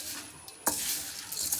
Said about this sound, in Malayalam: ഇതിലിട്ട് തേങ്ങ നല്ലോണം മിക്സ് ചെയ്യണം